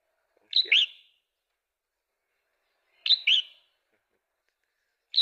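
Call of the yellow-vented bird played back to lure birds during a hunt, two short bright chirping phrases spaced a couple of seconds apart, with a third just starting, clear and alone against silence.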